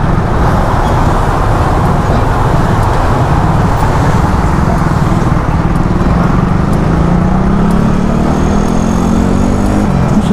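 Road traffic passing while riding a Yamaha Nmax 155 scooter in slow, congested traffic: a steady loud engine and road rumble with a vehicle drone that rises in pitch near the end, no talking.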